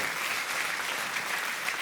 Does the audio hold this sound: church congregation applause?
yes